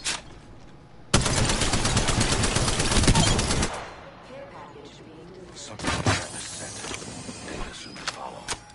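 Rapid automatic gunfire from an online battle royale shooter game, a dense burst of a few seconds followed by scattered shots and impacts, with brief speech around it.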